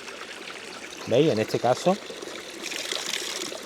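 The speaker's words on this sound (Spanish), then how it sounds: "Mira, aquí tenemos agua potable." Drinking water pours steadily from a public fountain at the Peña de Arias Montano in Alájar, a constant trickling splash heard close by while someone speaks briefly over it.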